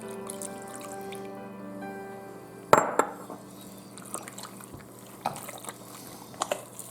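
Water is poured into curing-salted meat for homemade Polish kielbasa, making a sudden wet splash followed by quiet squelches and faint clinks of mixing.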